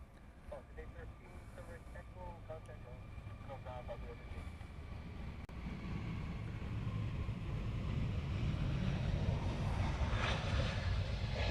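Cessna SkyCourier passenger aircraft at Honolulu airport, its engine rumble swelling from moderate to a loud, broadband roar as it nears, with wind buffeting the microphone and some voices early on.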